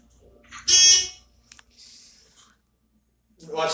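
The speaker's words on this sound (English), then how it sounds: "I was thinking it was going to be the grocery beep, but it was the Dover Buzz." A Dover elevator buzzer gives a short, loud, sharp buzz near the start, mixed with faint clicks and quiet noise. A second buzz-like burst cuts in at the end.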